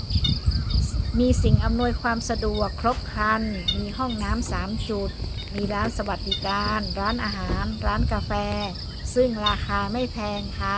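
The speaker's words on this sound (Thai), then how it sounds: "มีเสียงนกร้องเสียงจิ้งหรีดจักจั่น" Crickets and cicadas in a forest campsite in a national park in Thailand keep up a constant high trill, with birds calling now and then, while someone talks over them the whole time.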